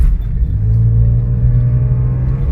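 A petrol Nissan Pathfinder with a 4.0 engine runs after throttle faults, its steady low engine rumble close and constant with no breaks or revving peaks, and no talk over it.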